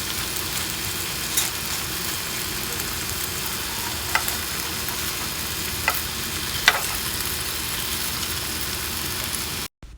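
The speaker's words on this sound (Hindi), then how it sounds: "तो बस यहाँ पर मैं सारे के सारे फ्राई कर लूँगी।" Chicken seekh kebabs frying in oil in a pan, a steady close sizzle with a few sharp clicks and pops as they are turned, continuous until an abrupt cut at the end.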